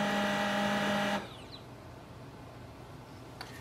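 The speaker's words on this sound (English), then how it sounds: "So printer is restarting." An HP LaserJet M139we printer restarting gives a steady mechanical whir with a tonal hum for about a second, then stops abruptly into quiet room tone with a faint click near the end.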